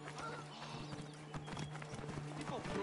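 Horse hooves clip-clop in the Assassin's Creed Origins video game, a steady galloping rhythm under continuous game sound and a voice.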